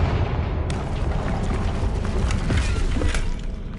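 A steady, roaring fiery blast from the Confringo spell in Hogwarts Legacy, with crackling debris and sharp impact snaps scattered through a dense, loud rumble.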